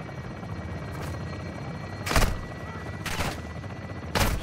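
A helicopter gun run firing in the shooter game Call of Duty: Modern Warfare II, with a steady rotor-like rumble and three loud bursts of heavy gunfire spaced about a second apart.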